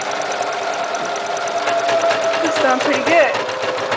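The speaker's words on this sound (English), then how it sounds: "only thing left for me to do now is just press the power foot and just start making a buttonhole." A Kenmore 385-16220 sewing machine stitches an automatic buttonhole with a continuous, close, rhythmic mechanical chatter and a faint whining tone, while a person speaks briefly over it.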